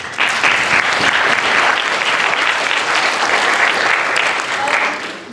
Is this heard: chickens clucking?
no